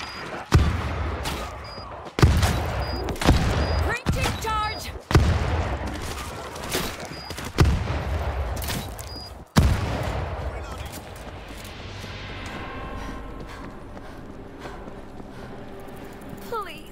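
Bursts of AK47 gunfire from the zombie shooter World War Z, several sharp loud volleys spaced a second or two apart, then a quieter stretch of rumbling background noise.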